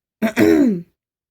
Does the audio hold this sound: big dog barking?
no